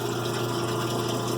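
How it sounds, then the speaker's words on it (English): A parts washer sprayer pushes cleaning liquid over engine bolts from a Mercedes OM617 rebuild, giving a steady close hiss and pump hum through the short stretch, with no talking. "And then here's a sprayer, so you can clean things off."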